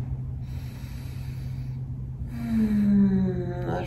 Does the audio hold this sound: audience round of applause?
no